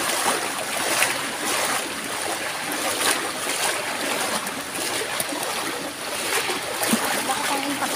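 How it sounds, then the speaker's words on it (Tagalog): Rushing floodwater surges steadily in the Philippines, a broad continuous wash with splashing and churning throughout, close and loud, with voices talking over it. "Malakas ang impact ng tubig guys."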